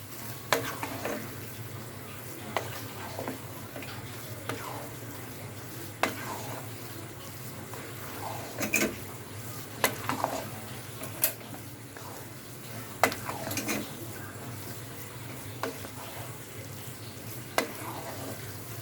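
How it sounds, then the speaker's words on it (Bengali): Tempering spices for khichuri frying in oil under a steady low sizzle, with a spoon scraping and clinking against the pot at irregular intervals, close by and without talking. "আমি এখানে ফোরনটা দিয়ে দিলাম নেড়ে চেড়ে দেবো"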